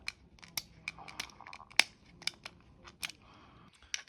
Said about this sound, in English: there's like a thin layer of plastic on top that keeps it down. So we just have to break those off.